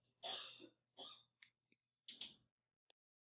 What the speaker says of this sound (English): Stop freaking coughing.